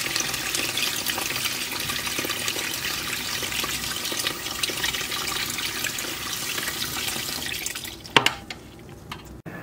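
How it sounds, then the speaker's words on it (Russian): Steppe morel mushrooms get rinsed under a running tap, a continuous splashing water stream that stops near the end, followed by a few light clinks and drips. "Промываем и складываем назад в кастрюлю."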